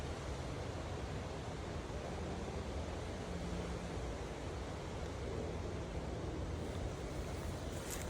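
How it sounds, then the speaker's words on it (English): Wind blowing outdoors while someone walks, a steady broadband rush that stays constant and moderately loud with no other clear sounds. "It's getting windy."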